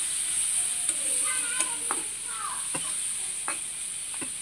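Shrimp hitting a hot pan while cooking kochur loti curry, a steady bright sizzle with scattered crackles and a few sharp pops, close and continuous with no one talking.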